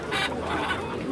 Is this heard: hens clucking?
yes